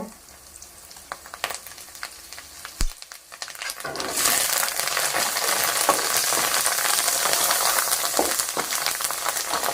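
Curry leaves hit hot oil for a mango pulihora, bursting into a loud, dense crackling sizzle that rises sharply after a few quiet clinks and stirring sounds and then holds steady and close.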